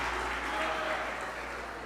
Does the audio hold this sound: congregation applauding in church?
yes